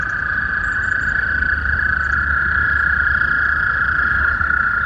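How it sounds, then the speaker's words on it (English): A chorus of frogs calls from a pond in the Blue Hills Reservation, Milton, Massachusetts, a loud continuous trilling drone that holds steady throughout with no voices. "There's a glorious chorus of frogs in a pond in the Blue Hills Reservation"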